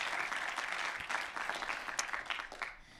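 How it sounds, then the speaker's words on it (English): A council chamber audience at a city council meeting breaks into a short burst of applause, a dense wash of clapping that holds steady for a few seconds, then quickly fades out. "If we could give her a round of applause, please."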